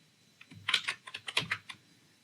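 Quick bursts of keystrokes on a computer keyboard while JavaScript code is typed, a dozen or so close, crisp clicks in uneven clusters over a quiet background.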